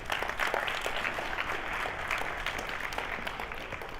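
An audience applauds for Davion, a steady wash of many hands clapping at moderate loudness through the whole stretch, with no voices over it.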